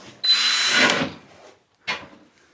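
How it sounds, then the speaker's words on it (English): Power drill boring pilot holes, one loud, close whirring burst of about a second as the bit bites in, then a pause and a second short burst. "drill some pilot holes."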